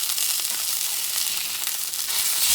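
Scallops searing in a hot pan on the stove give a steady, bright, close sizzle that stays even and continuous throughout, with no talking.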